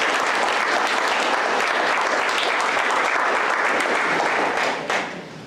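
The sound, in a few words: audience applause for the young people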